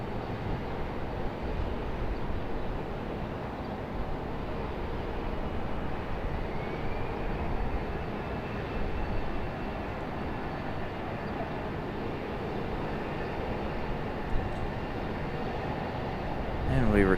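A Republic Airways Embraer E175 jet at Raleigh-Durham International Airport produces a continuous broad roar that holds steady throughout at moderate loudness, heard from a distance outdoors.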